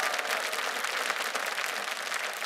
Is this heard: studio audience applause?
yes